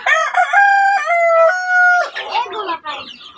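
In a chicken coop, a loud, close rooster crow holds for about two seconds, then breaks into rapid, jumbled clucking from hens.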